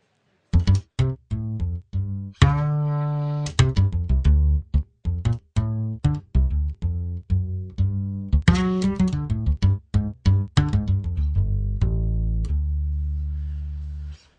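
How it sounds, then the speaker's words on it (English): Trilian acoustic bass from Trilogy playing a plucked melodic line, alone and clear, with separate round low notes, a few sustained, and short gaps between phrases. "Here we have the acoustic bass, and this is originally from Trilogy."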